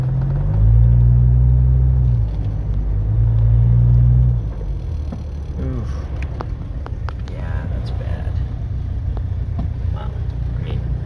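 Cars crawl through heavy traffic on Route 125 in Epping, NH, with a low rumbling idle and a loud engine hum for the first few seconds, then a quieter, steady road drone.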